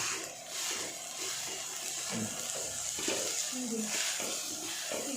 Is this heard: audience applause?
no